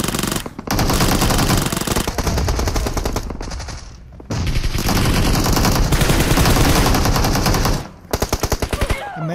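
Rapid automatic gunfire in a close-range fight in the mobile battle royale game BGMI, loud bursts running almost continuously with brief pauses near the middle and toward the end.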